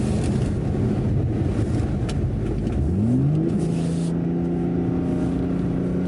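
A BMW G80 M3 Competition xDrive pulls away at full throttle, its engine note rising in pitch for a moment and then holding steady under heavy wind buffeting on the microphone.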